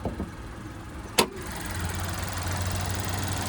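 A 2026 Chevrolet Trax's 1.2-liter turbocharged three-cylinder engine idles with a low, steady hum after a single sharp click.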